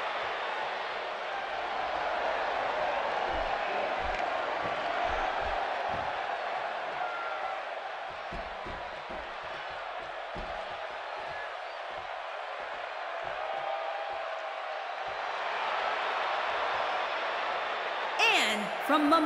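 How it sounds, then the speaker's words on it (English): Wrestling arena crowd at an Elimination Chamber event, a broad steady roar of cheering that swells near the end, with a commentator talking over it throughout. "it sounds to me like the crowd is more than ready for this one"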